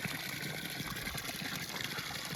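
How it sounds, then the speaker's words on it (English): Water pours steadily from a piped spring along the Appalachian Trail in Virginia, a continuous close splashing gush with no voices. "This is what we call a piped spring."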